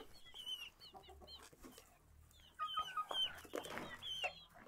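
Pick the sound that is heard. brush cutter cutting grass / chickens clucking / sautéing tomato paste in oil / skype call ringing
chickens clucking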